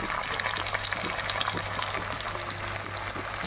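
Raisins and cashews frying in a pan alongside beans and carrots give a steady, close-up sizzle with dense crackling spatter, even and continuous with no talk.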